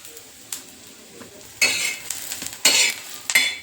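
Onions darkening in a pan for a fish curry in black masala sizzle quietly under a spoon. Several bursts of loud scraping and stirring stand out against the softer frying, with occasional small clinks.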